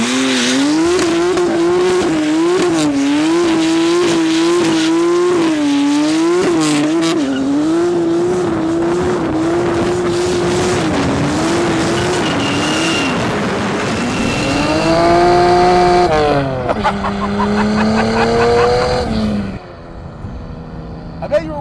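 A 400HP turbocharged BMW E30 screams through sustained tire squeal, engine revs rising and falling as it slides, loud and close, with a voice talking over part of it before the noise cuts off.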